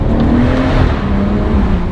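A BMW M140's exhaust drones loud and close as the car accelerates through a tunnel, a steady, booming engine roar that fills the enclosed space.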